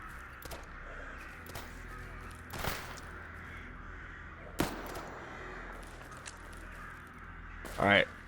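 Crows caw intermittently in the game STALKER, a few scattered calls over low ambient background with sharp transient clicks and a brief louder burst near the end.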